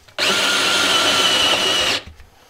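Cordless drill boring through metal layers while a composting toilet is installed, a steady loud whine running about two seconds before cutting off abruptly.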